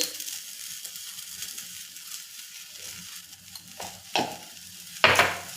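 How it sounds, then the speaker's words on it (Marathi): A vegetable mixture sautés in a pan with a soft, low sizzle, then a few sharp scrapes and stirs of a spoon toward the end, close and without talk. "परत एकदा व्यवस्थित परतून घेते"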